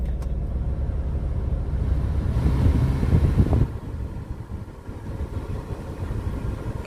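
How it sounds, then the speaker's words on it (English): A Maruti Suzuki Alto 800 engine idles with the air conditioning running after a belt tensioner fix, giving a steady, smooth low hum with no chirps, along with some wind noise on the microphone. "Engine on, AC on, no chirping, no abnormal noise"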